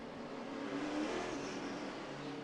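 NASCAR stock cars racing around the Richmond short track, a dense continuous roar of engines blending together at a distance, with no voices.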